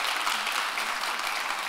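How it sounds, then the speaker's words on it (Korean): Audience applause at a finance conference in Jeonju, a dense steady wash of clapping from a seated crowd, even and sustained without pause. "다시 한번 박수 한번 주시고요."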